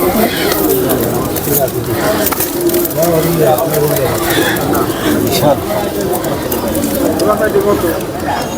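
At a pigeon market in Nazirpur, pigeons coo continuously, close and fairly loud. People talk over the birds throughout.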